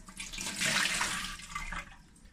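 Tap water runs into a kitchen sink as carrots and onions are washed, a steady close splashing rush that swells and then eases, with no voices.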